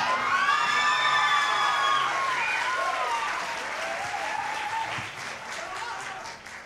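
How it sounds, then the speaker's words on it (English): Audience applause and cheering for a young bass player at a youth music jam camp performance, a loud sustained wave of clapping with whoops and shouts, gradually easing off toward the end. "Let's have a nice round of applause for Jonah Farish."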